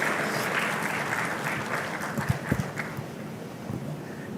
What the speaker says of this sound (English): a round of applause as I invite Mr. Gevorg Mantasyan for his speech